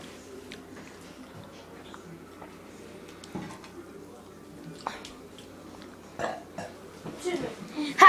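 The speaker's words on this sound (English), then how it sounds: "Ha! You burped." A burp breaks out during a casual meal among kids, short and close amid chewing noises, small clatters and low background chatter.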